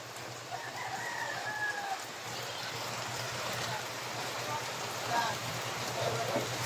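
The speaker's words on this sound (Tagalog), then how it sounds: "Maulan sa amin" Steady rain falls outdoors, a constant broad hiss and patter near the listener, with a rooster crowing faintly in the background.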